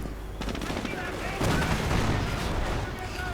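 Battle in a WWII strategy video game with a Sherman tank and Panzer IV trading fire: dense, continuous small-arms and machine-gun bursts with heavier tank shots swelling midway, loud and close throughout.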